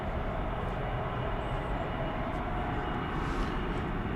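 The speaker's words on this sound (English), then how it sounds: "This will be a 7-year-old 767-300 freighter." A seven-year-old Boeing 767-300 freighter at DFW Airport produces a steady, loud jet roar that holds evenly throughout, with no voices over it.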